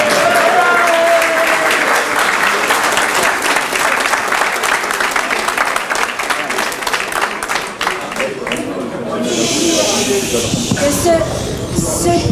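A large crowd at an election night event for the second round of municipal elections in Les Sables-d'Olonne claps steadily and loudly, with dense sustained applause and scattered cheering voices that taper toward the end.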